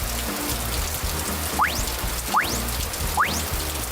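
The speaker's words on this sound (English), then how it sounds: "Rainy." Steady rain falls in an even, close hiss, with three rising chirped whistles repeating at regular intervals on top.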